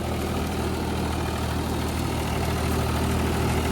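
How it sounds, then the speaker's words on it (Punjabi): A Mahindra 275 DI tractor pulling a 7-foot rotavator through a field runs with a steady, loud diesel rumble and dense vibration, continuous and close with no voices. "ਟਰੈਕਟਰ ਆਰਾਮ ਨਾਲ ਚੱਲ ਰਿਹਾ ਦੇਖੋ"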